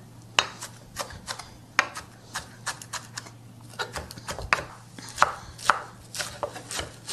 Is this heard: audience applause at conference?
no